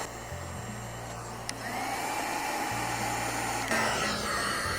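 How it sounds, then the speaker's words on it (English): A heat gun blows a steady, close whooshing airflow over heat-shrink tubing and soldered small-gauge wire on a Jeep Wrangler JK seat belt circuit. It keeps going without a break, and a faint tick sounds partway through. "we are ready to use our heat gun"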